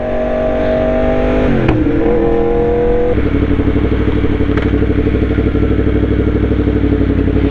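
A Volvo car drives close by, a loud steady engine drone that shifts pitch partway through and then holds a constant rumble, with no talking.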